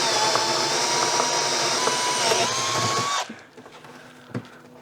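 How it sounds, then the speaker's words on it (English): A neighbour's trimmer whines steadily outside a workshop, loud and continuous, then cuts off abruptly near the end, leaving faint clicks and a knock. "my neighbour started his trimmer"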